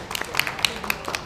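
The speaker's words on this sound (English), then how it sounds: "A round of applause to our facilitators." Scattered hand claps from a small in-person audience applauding the facilitators at a cooking-for-cancer kitchen event, a brief patter of individual claps mixed with voices.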